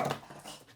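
A dog gives a short, single yip-like bark with a brief growling whimper trailing after it, close and moderately loud, in under a second.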